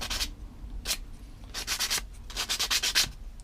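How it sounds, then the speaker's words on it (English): Sanding to deburr an arc cut with an X-Acto blade on a Guillow P-47 model part, heard as short scratchy rubbing strokes in bursts, close and fairly loud, with no talking. "And then we want to deburr it."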